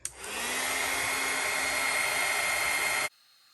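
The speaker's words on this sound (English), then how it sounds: "We're going to go ahead and get our heat tool and heat emboss this." A heat tool blows steadily for about three seconds while heat embossing a stamped card, then cuts off. The whoosh is close, loud and even, with no talking.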